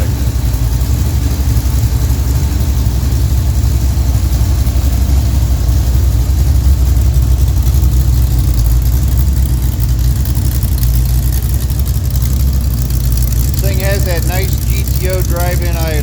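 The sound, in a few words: 1967 Pontiac GTO 400 engine revving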